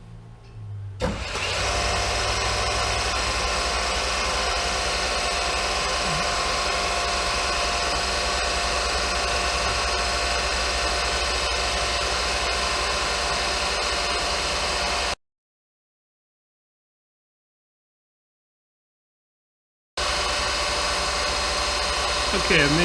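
A grinding wheel on a Monarch 10EE lathe is dressed with a steady, loud, hissing whine that runs unbroken, cuts out for several seconds, then starts up again.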